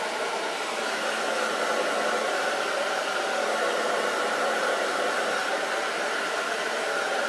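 A hair dryer fitted with a diffuser blows on curly hair, giving a loud, even, continuous whoosh that holds steady from start to finish with no talking.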